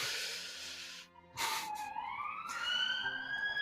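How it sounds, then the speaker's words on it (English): An ambulance siren rising in a sweeping wail after a brief hiss and pause, moderately loud and somewhat distant, sounding alone. "That ambulance is for me."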